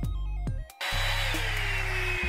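A Revlon One Step blow dryer brush stops briefly, then restarts into a loud, steady motor whir and rushing stream of warm air, heard close up with no voices.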